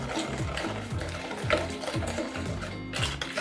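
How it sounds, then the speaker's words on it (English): Three eggs being whisked together in a mixing bowl for a marble cake batter: a steady, rhythmic beating with repeated wire-on-bowl strokes, close and continuous throughout, with no voices. "So just whisk those together."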